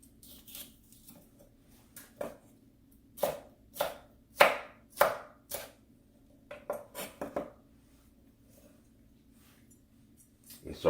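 Knife cutting peppers into julienne strips on a cutting board for sausage and peppers, a series of crisp close chops in uneven bursts with short pauses between strokes, no talking.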